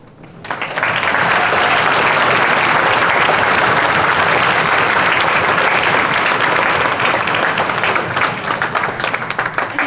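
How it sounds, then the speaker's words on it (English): A school auditorium audience at a middle school spring concert breaks into loud, sustained applause that swells within the first second and continues steadily to the end. "please rise for a round of applause"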